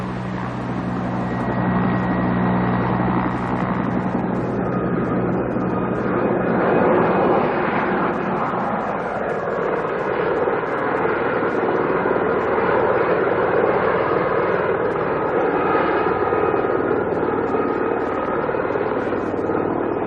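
A helicopter at an archaeological excavation site, a loud continuous engine and rotor roar holding steady throughout, with no voices.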